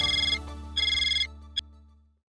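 A phone ringtone plays two bursts of warbling electronic ringing, then a short beep as it is cut off, close and clear with no talking.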